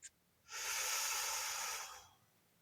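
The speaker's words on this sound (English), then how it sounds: "Inhale." A single slow, deep inhale through the nose during a guided breathing exercise. It sounds close and airy and lasts about a second and a half, with no one talking.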